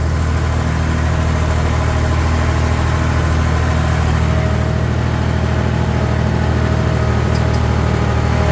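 A tractor ploughs shallow stubble in wet ground after a maize harvest, its engine droning steadily and loud from start to finish with a low, even rumble and no talking.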